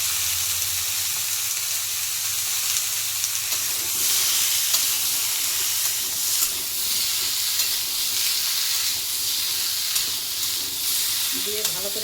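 Hilsa fish with salt and turmeric sizzles and fries steadily in a pan while being stirred, a continuous hiss with scraping stirs and a faint voice briefly near the end.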